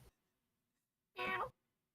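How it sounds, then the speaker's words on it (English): A single short meow sounds close by after a brief quiet pause, alone. "stop meowing beside my face."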